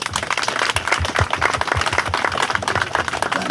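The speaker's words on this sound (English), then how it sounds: "So I want to give applause to the students who helped prepare all this." A crowd at an Armenian Genocide commemoration applauds the students, a dense, continuous round of many hands clapping close by with uneven, rippling beats.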